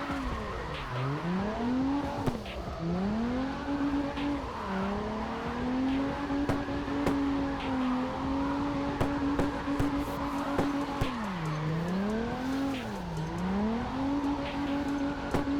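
A race car engine in a driving sim played on a Moza R5 wheel drones steadily, its pitch dipping and climbing through repeated downshifts and accelerations, with occasional tire squeal, clear and continuous with no talking.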